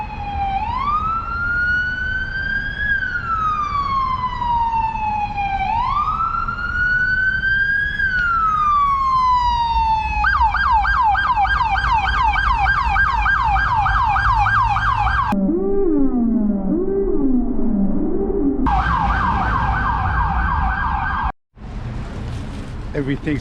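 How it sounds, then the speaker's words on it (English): An ambulance siren in the suburbs sweeps up and down in long wails, then switches to rapid yelps, loud and close, with steady road noise underneath. "watch the ambulance come by, listen to all that noise"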